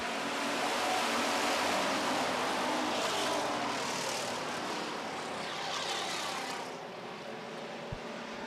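A pack of street stock race cars roars as they take the green flag, a dense, loud, sustained engine rumble from several cars that swells and then slowly eases as they pull away.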